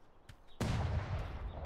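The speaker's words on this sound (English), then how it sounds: "they're shooting cannons at us" Cannon fire in the pirate video game Atlas: a faint pop, then a sharp, loud booming blast with a long rumbling tail, sustained heavy and close.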